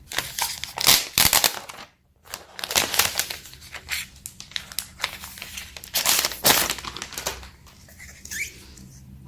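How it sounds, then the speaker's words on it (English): Plastic wrap is peeled off a new white Apple iPad Magic Keyboard, giving close, loud crinkling and crackling in irregular bursts with a short pause, with no talking over it. "So I will remove now the plastic."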